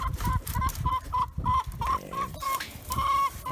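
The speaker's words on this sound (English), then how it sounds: "Oh, there's a hen in that one right there." A hen clucks in a backyard nest box, close by, in a run of short repeated calls that rise into a few louder drawn-out notes, with some rustling between them.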